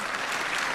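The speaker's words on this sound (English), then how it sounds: "I'm going to ask you to start clapping and you just follow as I raise my hand" A conference audience claps together in a dense, steady wash of applause that fills the moment, with no voices on top.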